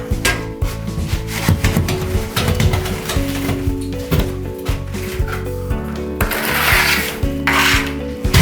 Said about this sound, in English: just get the edge on there and take off the mud